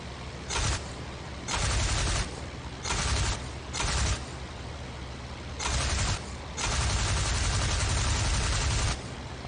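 Aircraft machine guns rattle in the IL-2 Flying Circus combat flight game, firing in several separate bursts of varying length. The longest burst comes last, and the bursts sit over steady engine drone.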